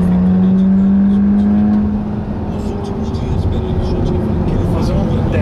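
Everyday road car engine running while driving, a steady loud drone with a low hum that eases after a couple of seconds, heard from inside the cabin.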